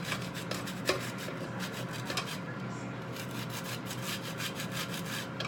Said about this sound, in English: Zest this orange.